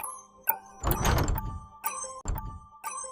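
A door slams shut as someone storms out of a shop, giving a sharp thud followed by a heavier, rumbling bang and then a couple of softer knocks.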